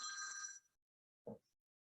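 A telephone rings indoors during a talk, with one short burst of bright, trilling bell tones that stops abruptly, followed by a faint brief sound and then quiet.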